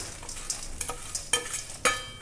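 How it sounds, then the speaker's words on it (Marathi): Potatoes hit a pan of sautéed green chillies, setting off a brief, close sizzle. Quick spatula stirs and scrapes break through the frying in a few sharp bursts. "बटाटा पण छान आपल्याला परतून घ्यायचा आहे"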